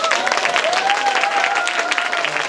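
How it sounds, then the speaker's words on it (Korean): Applause from an audience at a Korean climate change forum on the arts, steady dense clapping with some crowd noise and a faint voice over it throughout. "박수 한번 주시면 되겠죠?"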